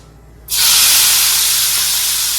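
Chopped onions, garlic and tomatoes hit hot oil in a pan with a sudden loud hiss that settles into a steady, close sizzle, with no talking.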